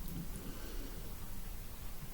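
Heavy rain pours down steadily outdoors in Wales, a dense, continuous hiss with no breaks, fairly close and even in loudness throughout, with no one speaking.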